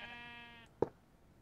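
A sheep in the Minecraft video game gives a single short bleat at close range, followed by a brief sharp blip, with quiet game ambience around it.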